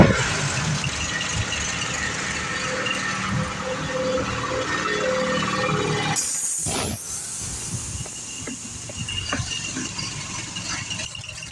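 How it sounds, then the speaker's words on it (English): An MG Midget engine idling steadily after an idle adjustment to around 600 to 800 RPM, a continuous low rumble with hiss, briefly dropping out midway before settling back. "I adjusted the idle so that it idles around 600 to 800 RPM."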